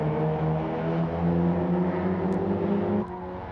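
Race cars battle side by side on the back straight at TI Circuit in 1993, engines howling loudly together and building in pitch before one note drops away near the end.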